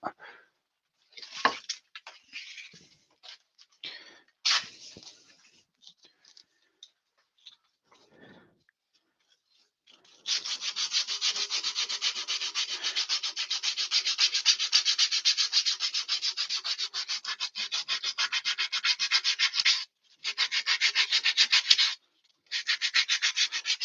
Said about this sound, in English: I'm not going to do a show full of sanding.